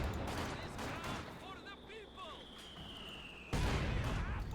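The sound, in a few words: gunfire at Panther IV tank in video game Company of Heroes 2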